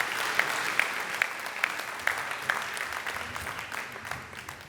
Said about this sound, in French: je vous prie encore une fois d'applaudir très très très fort.